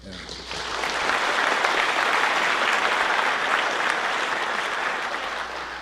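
An audience at a Gyeongsangbuk-do government discussion forum welcomes a guest minister with loud applause, a sharp swell of many hands clapping that stays dense and sustained before easing slightly.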